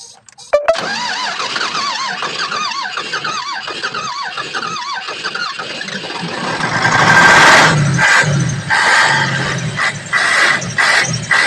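A payloader's engine cranks with a squealing, warbling starter for several seconds, then catches and runs with a loud, rough rumble and intermittent knocks, close by and with no talk.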